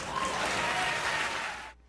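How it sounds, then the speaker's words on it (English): Audience applause at a talk by a religion scholar, a dense burst of clapping from a crowd that holds steady and loud for nearly two seconds, then cuts off abruptly. "You can applaud."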